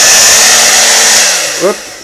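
A cheap hair dryer on warm air blows steadily up close, a loud continuous rush of air that dips briefly before settling lower near the end.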